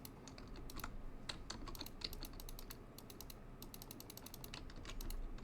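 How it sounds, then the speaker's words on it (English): Rapid, irregular keyboard and mouse clicks while a game is played, quiet and close, scattered in quick bursts over a soft background hum, with no speech. "Do you like just hearing my clicking?"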